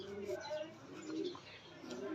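Racing pigeons coo steadily at the loft, awaiting arrival from a race released at Malapascua, Cebu, with soft repeated calls and faint chirps forming a continuous close-by murmur.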